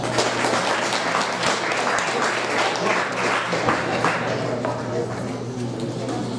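Audience at a 2016 UQTR student association candidates' debate applauding a candidate for vice-president of academic affairs coming on stage, a steady wash of clapping with a low background hum throughout.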